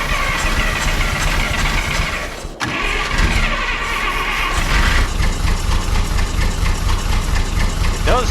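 Old farm truck engine cranks and catches, then settles into a rough, steady idle, loud and close, with a brief dip as it turns over and a continuous low knocking rumble after.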